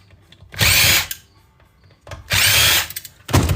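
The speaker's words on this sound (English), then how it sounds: "Let's just go ahead and pop the screws." Power drill backing screws out of scrap electronics being stripped for e-waste recycling, two loud sustained whirring bursts about a second each with a short third starting at the end, close and alone.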